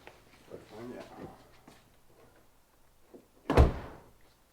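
A rebuilt 2010 Chevrolet Impala car door shuts with a single loud, close thunk near the end, after a stretch of faint handling noises and some background talk.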